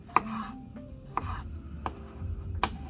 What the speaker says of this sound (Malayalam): നമ്മൾ കുനുകുനാന്ന് അരിഞ്ഞ് മാറ്റുകയാണ്.